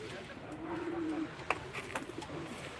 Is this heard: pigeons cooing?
yes